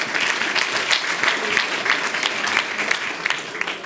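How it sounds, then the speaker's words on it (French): An awards-ceremony audience applauds Pierre Brézé, foundation president, at the Marius Lavet prize evening: moderately loud, even clapping from a seated crowd, with individual hand claps standing out in an uneven rhythm. "Alors, vous pouvez l'applaudir,"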